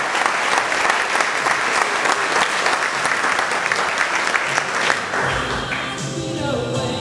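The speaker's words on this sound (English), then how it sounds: "Everybody give Kai a big round of applause." Loud audience applause fills the room for about five seconds, dense and steady, before thinning out as a few voices and scattered claps linger near the end.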